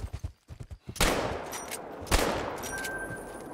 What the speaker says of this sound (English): I got a shotgun ready for you